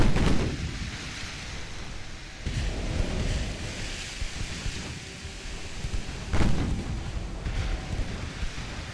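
Secondary guns of a warship fire in the naval video game Ultimate Admiral Dreadnoughts, a few sharp booming reports spaced over a steady rumbling, rain-like background wash, no talk.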